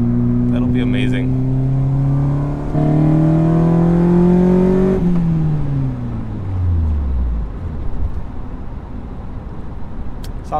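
A Honda Jazz engine with VTEC, variable valve timing, water-methanol injection and boost climbs steadily in pitch for about five seconds, then drops away as the revs fall, loud and close from inside the car.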